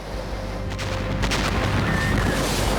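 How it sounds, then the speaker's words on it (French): Dense, continuous rumbling roar of many explosions tearing through a house in Ontario, California, steady and loud with no clear separate blasts and no voices. "Puis, viennent des centaines d'explosions."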